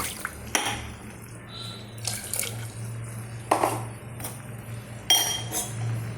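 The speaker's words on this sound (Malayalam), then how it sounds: "നമുക്കിപ്പം കുറച്ച് വെള്ളം കൂടി ചേർക്കാം" Water runs and splashes in short bursts into a metal pot, with faint clinks of cookware and a steady low hum in the background.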